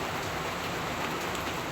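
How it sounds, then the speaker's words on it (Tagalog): Heavy typhoon rain falling in a steady, dense roar without a break, close and loud throughout the short stretch, with no voices. "lalong lumalakas yung ulan"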